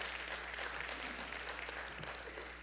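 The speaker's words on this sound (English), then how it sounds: "Somebody clap, all right?" Congregation applauding during a church sermon: a soft, steady patter of many hands clapping at a distance, continuous and fairly faint over a low hum, easing off slightly toward the end.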